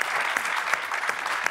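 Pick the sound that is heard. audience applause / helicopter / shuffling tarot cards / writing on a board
audience applause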